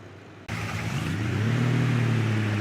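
A pickup truck with a snowplow attached, backing up: its engine kicks in abruptly after a short pause and settles into a steady, close, low drone that swells slightly.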